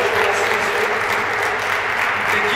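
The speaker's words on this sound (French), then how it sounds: "vous applaudissiez vraiment bien fort." Audience applauding loudly in a hall, a thick, continuous burst of clapping that stays strong and even from start to finish.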